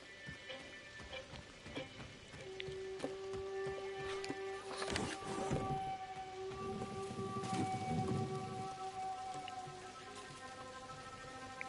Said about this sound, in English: Actually, the rain is hitting the surface there.